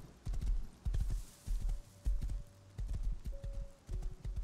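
A horse in the video game Rust trots with steady, fairly loud clip-clop hoofbeats in uneven bursts, joined by faint tonal game sounds.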